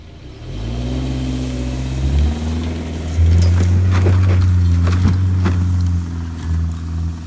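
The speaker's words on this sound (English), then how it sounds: "get in the car, turn the key, standard drive, and I'm just gonna hit it with some more momentum" A Subaru with a CVT climbs a steep hill in standard drive with VDC off, its engine droning loudly and surging as it accelerates, rising to a strained higher pitch partway through, no voices.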